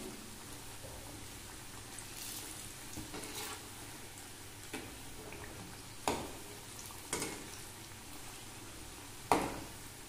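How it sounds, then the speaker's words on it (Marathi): Fenugreek chili pakoras frying in oil over a medium flame, a steady low sizzle running throughout with a few sharper crackles and pops near the end. "मध्यम आचेवर छान असे आपण खरपूस मेथी मिरची पकोडे तळून घेऊया"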